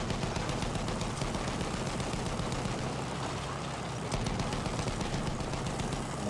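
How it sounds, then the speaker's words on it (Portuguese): Enemy machine gun fire in the Battlefield 1 video game rattles in rapid continuous bursts amid dense battle noise and engine drone, fairly loud throughout with no talk over it. "Metralhadora inimiga!"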